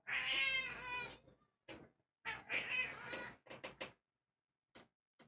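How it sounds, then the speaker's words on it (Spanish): A real cat meowing close by, one long loud drawn-out meow followed by several shorter meows and brief chirps with pauses between, no talking. "¿Queréis ver un gato de verdad?"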